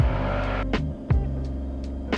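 A light aircraft engine run up to full power for a cliff takeoff, a loud steady low-pitched engine roar inside the cockpit, broken by a few short clicks and thumps.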